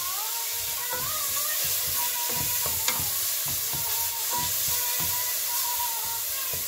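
Cardamom seeds fry in a pan for a carrot and rice pudding, a steady close sizzle under repeated scraping and tapping strokes of a spoon stirring them.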